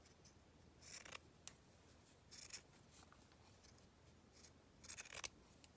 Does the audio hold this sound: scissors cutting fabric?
yes